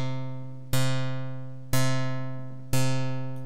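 A step sequencer in the Drambo app plays only steps one and three of its pattern, giving a sharp, bright synth note struck roughly once a second, three times, each ringing out and decaying smoothly with no voices.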